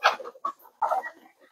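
Farm chickens clucking in short bursts, a few close calls separated by brief pauses, with no talk over them.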